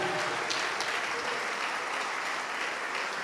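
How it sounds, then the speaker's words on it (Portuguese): Church congregation applauding during a Portuguese-language worship service, a steady wash of many hands clapping at moderate distance, continuous and even throughout with no voices standing out. "vamos aplaudir mais ao Senhor Jesus"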